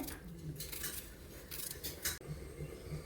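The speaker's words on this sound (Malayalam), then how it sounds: "ഇനി ഒരു ഉള്ളി കൂടെ അരിഞ്ഞിടുന്നുണ്ടേ" A knife chopping an onion on a board, a few quick light taps and clicks in a kitchen, fairly faint and close, with a soft voice murmuring in the background.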